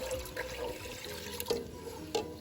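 Cold water poured into a pot of browned walnuts, a continuous splashing pour with gurgling liquid and a few sharper clinks or splashes near the middle and end, fairly close.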